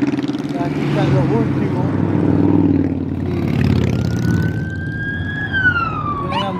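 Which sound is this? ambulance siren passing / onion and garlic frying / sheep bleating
ambulance siren passing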